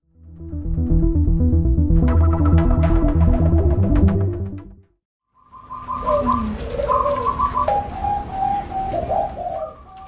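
A Bangkok zebra dove coos nearby, a run of soft, rhythmic rolling notes, pausing briefly before another burst of cooing.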